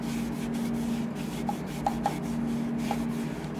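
Hand sanding a natural-edge maple bowl with 60-grit sandpaper produces close, rhythmic scratchy rubbing strokes with a few light knocks against the wood, over a low steady hum.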